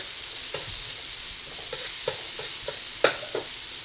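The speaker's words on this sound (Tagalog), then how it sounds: "Magigisa na siya ng bawang mga idol." Garlic sautés in a pan while a spatula stirs it. A soft continuous sizzle runs underneath, broken by several sharp scraping clicks of the utensil, the loudest near the end. No one speaks.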